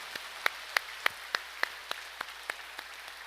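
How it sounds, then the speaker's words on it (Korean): At a Christmas morning church service, about ten crisp claps land in an even rhythm at roughly three per second, fairly faint against a quiet room. "하나님께 다 함께 영광과 감사의 박수를 올려드리십시다"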